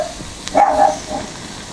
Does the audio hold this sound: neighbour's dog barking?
yes